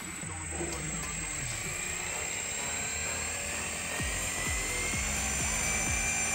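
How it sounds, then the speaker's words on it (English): A Reely brushless RC dirt bike powers up with an electronic gyro, giving a steady high-pitched whine and hum that runs through the whole stretch, with a few faint clicks near the end. "we can hear that electronic gyro starting up"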